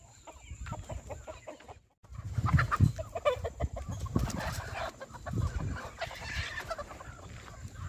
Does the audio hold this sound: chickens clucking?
yes